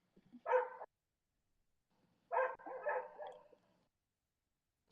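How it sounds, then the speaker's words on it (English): A dog gives two separate barks, the second a longer double yap trailing off, fairly close and moderately loud with silence around them. "this dog's been barking all day today"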